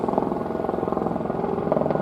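An LAPD helicopter flies slowly overhead in a city, its rotor producing a loud, steady rhythmic thumping that stays close throughout.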